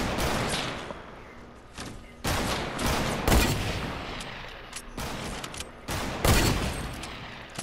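Repeated bursts of Fortnite gunfire crack out in uneven volleys, several loud close shots mixed with fainter distant ones, over a constant background of game ambience.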